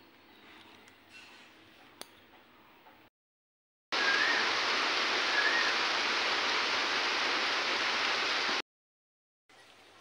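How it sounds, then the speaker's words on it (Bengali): Steady rain falls on a cloudy day, a dense even hiss filling the middle stretch, with quieter ambient sound before and after brief silent gaps. "তো বৃষ্টি বৃষ্টি পড়ছে, আজকে একটু বৃষ্টিও পড়ছে"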